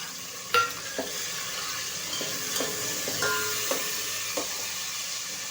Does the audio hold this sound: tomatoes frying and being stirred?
yes